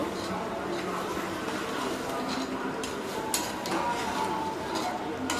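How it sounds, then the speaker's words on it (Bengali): Beef and potatoes are stirred in a cooking pot for a village-style beef curry, giving a steady, fairly quiet scraping and clinking of the utensil against the metal over a low background hiss, with a few sharper knocks near the end. "তো আলু দিয়ে মাংসটা নাড়া দিয়ে দিছি খুব সুন্দর করে"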